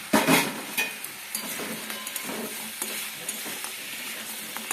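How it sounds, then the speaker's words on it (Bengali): Ridge gourd, fried bori lentil dumplings and onions are stirred together in a sizzling pan, a spatula scraping and tapping in a loose rhythm over a constant close frying hiss. "এবার সবগুলো একসাথে নাড়তে থাকবো।"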